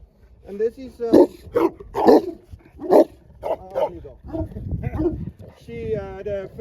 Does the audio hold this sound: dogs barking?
yes